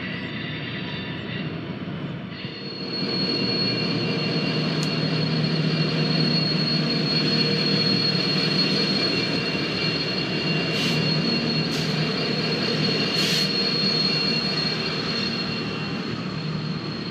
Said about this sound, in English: This CN train has come down from East Dubuque